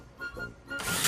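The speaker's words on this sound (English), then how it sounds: "what you heard there was the drill slipping on purpose so it doesn't bear down" A cordless drill driving a screw into a dollhouse build, its clutch deliberately slipping near the end with a sudden loud broadband rattle after a quieter whir and faint hum.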